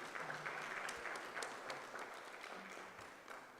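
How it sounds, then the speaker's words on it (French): Steady audience applause fills a General Assembly of the African Man and Biosphere Reserves Network, a dense continuous patter of many hands at moderate level, with no voices rising above it. "Applaudissez tout Afrimab."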